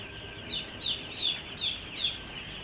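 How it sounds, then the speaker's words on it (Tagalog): Chicks, including a black one, peep inside a house on a small farm: five short, high chirps at a steady, even pace, fairly close and alone over a low background hum. "Ayan sisiw namin guys."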